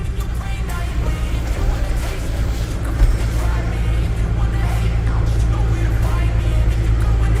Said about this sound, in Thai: แอร์ทำงาน